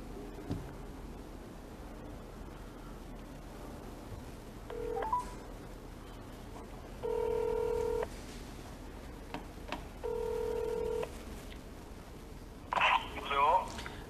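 Telephone number dialed on a keypad, with short bursts of steady dual tones separated by pauses, followed by faint ringing and a voice on the line, set within a Korean talk segment about disability employment.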